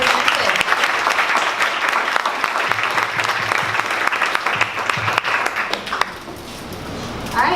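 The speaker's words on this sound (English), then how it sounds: "One more round of applause for Knkt'd." An audience applauds after a startup pitch, a loud, sustained wash of clapping from a crowd that continues throughout.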